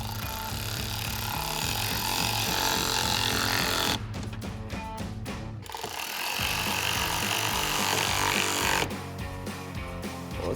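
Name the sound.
tightening screws with a T20 Torx bit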